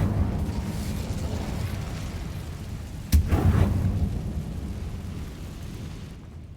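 A fire spell cast in Hogwarts Legacy bursts as a sudden loud whoosh-boom partway through, briefly rising above a steady low rumble of game ambience.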